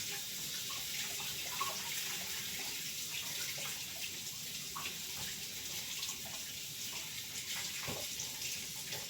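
Tap water runs steadily into a sink while a farm-fresh egg is washed, a continuous close splashing hiss with small shifts in the flow.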